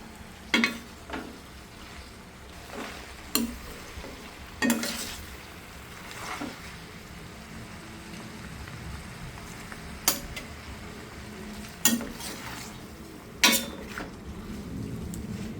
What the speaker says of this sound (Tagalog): O yan guys, ito na ang ating stir fry udon noodles.